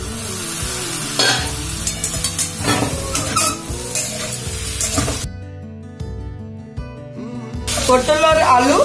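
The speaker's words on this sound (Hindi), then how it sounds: "परवल और आलू को अभी अच्छे से फ्राई करना है।" Pointed gourd and potato pieces frying in a pan, a sizzle with repeated stirring scrapes and clatter, partly under background music that drops out briefly midway.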